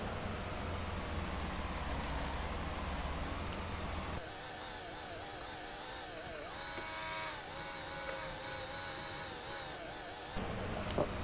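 Truck reversing in Farming Simulator 19: a low, steady engine drone that gives way partway through to a higher, wavering mechanical whine with a shifting pitch, fairly quiet, ending with a short hiss.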